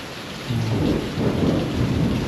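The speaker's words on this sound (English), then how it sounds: "Hear that thunder?" Deep rolling thunder rumbles on and on over the steady wash of heavy rain, loud and close.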